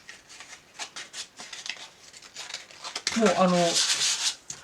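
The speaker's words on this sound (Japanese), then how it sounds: "紙やすりで、もうこれ100番ぐらいの紙やすりです" Burrs being sanded off by hand with roughly 100-grit sandpaper, a run of short dry scratchy rubbing strokes that grows into louder, longer continuous scrubbing, with a brief spoken word in between.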